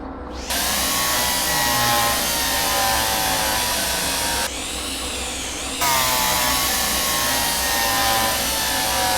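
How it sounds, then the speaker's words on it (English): A steady, loud mechanical whir of a drill boring into a part in the train simulator Derail Valley, running continuously with a brief shift in pitch midway before settling back. "We'll drill this one."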